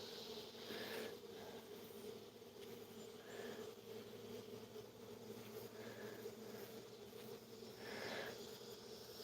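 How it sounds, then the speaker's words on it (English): A small bee trapped with its leg caught buzzes steadily and faintly, a continuous droning hum with slight surges in intensity, heard close with no talking. "Let me see if I can free this little bee without getting my ass stung."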